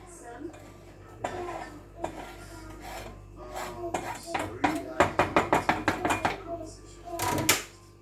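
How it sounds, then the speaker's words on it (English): A spoon scrapes and stirs chopped onions into a meat pie filling in a pan, with soft rasping strokes that quicken into a rapid series of rhythmic scrapes, close and moderately loud. "Then I'm stirring it."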